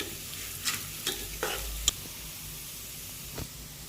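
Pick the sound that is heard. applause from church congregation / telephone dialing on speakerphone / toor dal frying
toor dal frying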